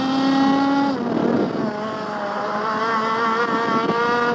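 An IAME Parilla kart engine driving on a race track: a loud, close, buzzing two-stroke whine that drops in pitch, then climbs steadily again as the kart accelerates, with no voices.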